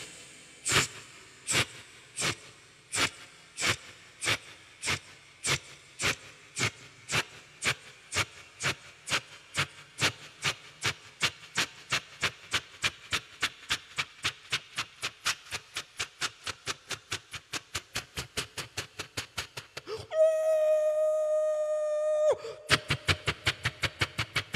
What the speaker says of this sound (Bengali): ট্রেন আস্তে আস্তে স্টেশন ছেড়ে বেরিয়ে যাচ্ছে।